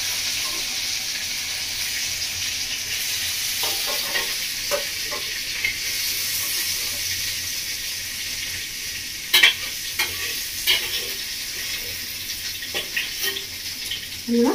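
Prawns frying in hot oil in a Bengali village-style kitchen, a constant sizzle punctuated by scraping stirs and sharp clinks of a utensil against the pan, growing busier toward the end.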